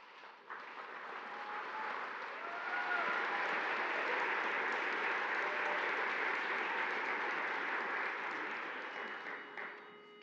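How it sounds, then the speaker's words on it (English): A theatre audience applauds a barbershop women's chorus at an anniversary show. The clapping is sustained and dense for about ten seconds and swells slightly in the middle before tapering off. "a big round of applause"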